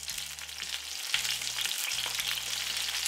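Shallots laid cut side down in a hot pan, seasoned with salt, Italian seasoning and black pepper, searing with a steady, close sizzle and crackle under a faint low hum.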